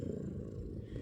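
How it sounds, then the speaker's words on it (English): Oscar, a pet cat, purrs close and very softly in a low, continuous rumble that lasts about a second. "Purring."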